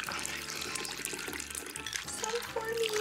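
A cereal-themed cocktail is poured into glasses, a steady liquid trickle and splash running for about three seconds, close and fairly loud, the stream rising slightly in pitch near the end.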